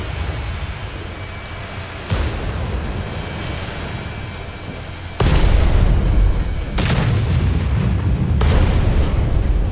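Heavy tank cannons in a video game boom in several deep, close blasts over a rumbling battle bed, the loudest near five seconds and others following at intervals.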